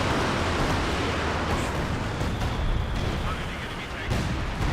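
Artillery barrages in the World War II strategy game Company of Heroes 2, a dense, continuous roar of blasts and rumbling impacts at high level throughout, with a voice faintly mixed beneath.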